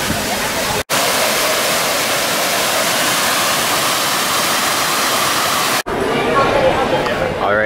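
A splashing interactive water play fountain at Epcot, Walt Disney World, gives a steady loud rush of falling water with faint crowd murmur underneath, briefly cut twice.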